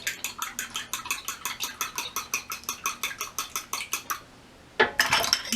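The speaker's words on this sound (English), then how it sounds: "I also want to do a couple of eggs. I'm going to scramble those up before I put them in" Eggs are scrambled in a bowl with a utensil for bread dough, giving a fast, steady rhythm of close clinking beats for about four seconds, then a short pause and a louder burst of scraping and clattering.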